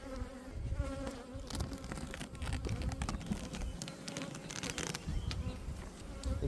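Honey bees buzz steadily at a weak hive that recently got a new queen, a dense close drone with scattered louder passes near the microphone.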